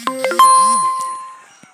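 A bright notification chime for an incoming voice message rings out as a quick cluster of clear, bell-like dings that fade over under two seconds.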